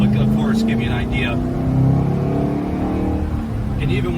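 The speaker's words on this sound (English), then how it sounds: "you can hear the sound of the motor from inside the car" A 2008 Ford Mustang Shelby GT engine rumbles steadily from inside the cabin with the windows up, a low, even drone that swells slightly, with someone talking over it.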